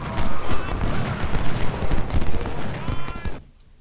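Dense crackling musket volleys ring out in Ultimate General: Civil War's Battle of Gettysburg, overlapping shots rolling continuously for over three seconds before cutting off abruptly into near silence.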